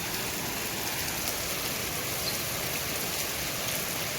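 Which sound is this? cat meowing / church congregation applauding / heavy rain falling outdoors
heavy rain falling outdoors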